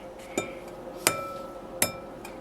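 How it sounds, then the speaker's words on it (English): Eggs cracked against a hard edge in a kitchen while making scrambled eggs, three sharp, separate clinks spaced under a second apart, close and fairly loud with no talking. "So first we're going to crack the eggs."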